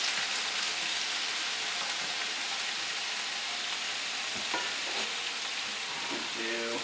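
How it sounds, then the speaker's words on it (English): Shrimp fry in a stir-fry pan with constant loud sizzling and crackling, like rain on a surface, with faint stirring scrapes throughout. "I'm going to go ahead and go right in with our shrimp."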